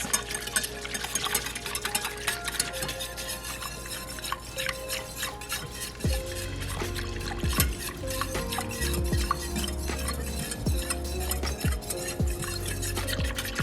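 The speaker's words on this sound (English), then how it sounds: "I'm gonna whisk this." A whisk beats ingredients in a bowl in a home kitchen during a Williams Sonoma recipe for walnut toast with Gruyere and blackberries. The sound is a steady, rhythmic, scraping clatter of metal against the bowl, close and continuous, with no talking.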